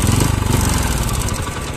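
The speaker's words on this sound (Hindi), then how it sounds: "अब देखो अब बंद हो जा रही है बाइक" Hero Honda CD 100 SS motorcycle engine sputtering and dying, a loud uneven low chugging that pulses rapidly and then fades slightly as the engine loses power, with no talk over it.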